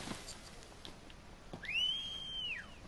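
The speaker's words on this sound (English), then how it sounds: "you whistle to get his attention," A single clear whistle in Final Fantasy XV, used to lure a soldier, rises into a long held note and then falls away, preceded by faint clicks and quiet game ambience.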